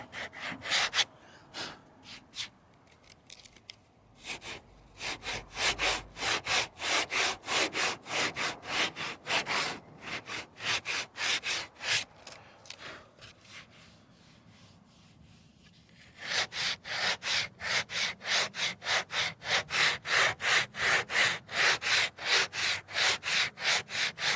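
Bondo body filler is sanded by hand with 180-grit sandpaper in fast, rhythmic back-and-forth strokes, close and loud, with a short pause midway before the brisk scratching resumes.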